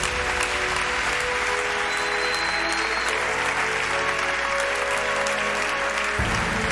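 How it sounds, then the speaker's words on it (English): Sustained, dense applause from a large awards-ceremony crowd honouring a MotoGP world champion, loud and even throughout with no break and no clear voices above it. "A huge round of applause, please, ladies and gentlemen."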